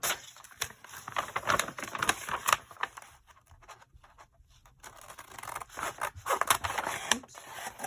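Scissors snipping through crinkly craft material, a string of close, quiet crisp cuts in short bursts with a brief pause in the middle.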